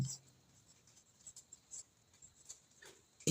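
A pen scratches on paper in short, soft strokes while a math problem is worked out. The strokes are quiet and close, in irregular bursts with brief gaps.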